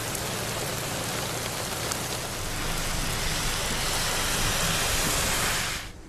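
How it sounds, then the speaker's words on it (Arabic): Heavy rain pours steadily onto city streets during a storm, a dense, loud, continuous hiss that fades out at the very end. "أمطار غزيرة وبرق ورعد وسقوط البرد على بعض المناطق"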